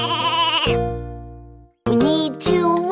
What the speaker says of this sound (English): a woolly sheep says,